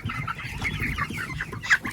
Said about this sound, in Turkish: Horozunu tuttuk.